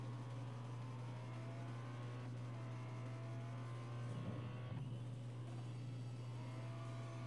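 A Nissan's engine hums at a steady drone while it drifts in the mobile racing game Real Racing 3, the tone sustained and fairly quiet, with faint shifting whirs and a small burst midway.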